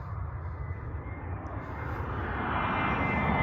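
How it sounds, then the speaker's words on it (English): A jet airplane near an airport takes off, heard as a steady, low broadband engine roar that slowly grows louder, distant and alone. "there's a jet that's coming. I'm over by an airport"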